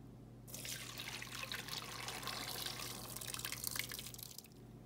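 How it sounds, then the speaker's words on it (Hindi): Cooked sago pearls strained after boiling, water pouring and trickling steadily through a strainer for several seconds, close and moderately loud, with no talking. "इसको छान लेते हैं।"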